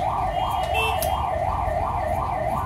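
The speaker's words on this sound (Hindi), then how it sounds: "एम्स की गाड़ियाँ चलती रहती हैं सायरन बजते रहते हैं एम्बुलेंस के।" An ambulance siren in busy Rishikesh traffic, its loud wailing tone rising and falling in a steady repeating cycle over a constant rumble of road noise.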